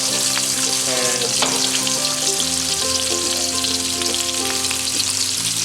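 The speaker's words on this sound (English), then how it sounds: "what we can do is turn this to high heat. Alright, and for another 10 seconds or so, we're gonna keep stirring this" Beef Noodle Soup ingredients stir-fry in a wok over high heat, with a loud, steady, continuous sizzle close up and intermittent stirring scrapes throughout.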